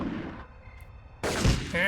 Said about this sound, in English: Shots are a little loud, but not too bad.